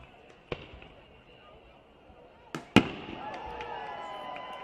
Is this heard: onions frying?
no